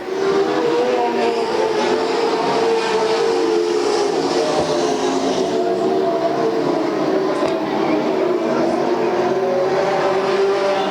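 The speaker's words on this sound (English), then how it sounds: "Here comes Scott Pounds on the high side into turn 1" Stock cars roar around an oval track at a Bakersfield race, a dense continuous engine drone and rumble filling the whole stretch without letting up.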